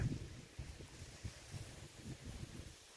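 Strong wind gusting through a mountain valley, a low rumbling buffet against the microphone with uneven surges and no voices.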